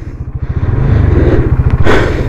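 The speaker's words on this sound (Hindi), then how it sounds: "तो ये देखो गाड़ी स्टार्ट हो गई।" A 2023 Hero Xtreme 160R 4V, a 160cc motorcycle, starts and settles into a loud, close idle with a fast, even single-cylinder pulse, a short rise in revs and some mechanical clatter near the end.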